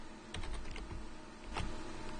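Quick typing on a computer keyboard while entering a command in the Left 4 Dead map editor, a short run of close, crisp key clicks in an irregular rhythm.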